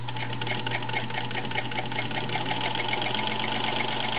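Vintage Singer Featherweight 221 sewing machine stitching straight seams, a fast steady mechanical whir with rapid needle clatter, close and continuous, with no talking.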